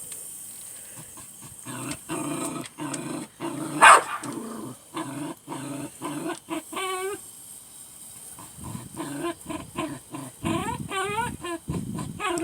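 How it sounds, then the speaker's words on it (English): A dog growling and barking at a small frog outdoors: repeated close, rumbling growls broken by short barks, with higher whiny yelps near the end. "He's growling at the little froggy up here."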